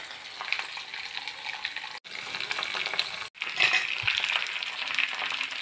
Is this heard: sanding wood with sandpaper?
no